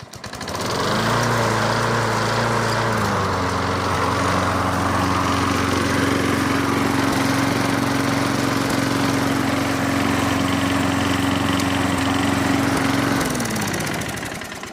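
A Craftsman lawn mower engine, just refitted after a carburetor teardown, fires up and runs at a steady, loud drone for over ten seconds, with no voices over it.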